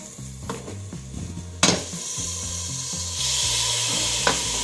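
Mutton pieces tipped into hot oil with fried ingredients for mutton sambar, sizzling steadily while a spoon clanks and scrapes around the pot, with the frying growing louder toward the end.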